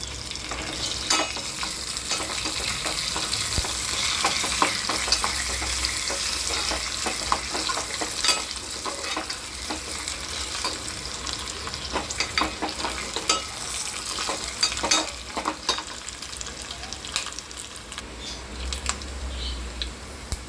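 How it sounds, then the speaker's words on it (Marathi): Curry leaves, mustard seeds and cumin crackle and sizzle in hot oil as a tempering for yogurt kadhi, a close, lively spitting with stirring clicks throughout and no talk. "त्यामध्ये आपण कढीपत्ता टाकत आहोत"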